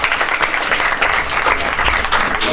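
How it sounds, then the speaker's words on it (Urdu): Audience clapping steadily throughout at a lively school or community gathering, close and dense, with no speech over it. "خان صاحب کے لیے تالیاں بجائیں جی"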